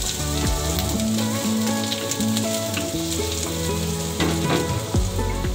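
Chopped garlic frying in a hot pan for a beef spleen mash, a steady close sizzle with light stirring, no voices.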